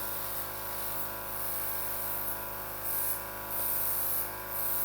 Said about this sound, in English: I'm spraying until I've got that colour.